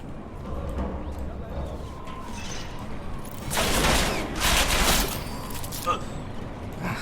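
Gunfire in Deus Ex: Mankind Divided bursts out in a couple of loud volleys midway, over a steady rumble of background noise.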